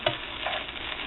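Rice and vegetables sizzle steadily in a hot pan with soy sauce just added, a close, even frying hiss with a faint stir near the start.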